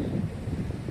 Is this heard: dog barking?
no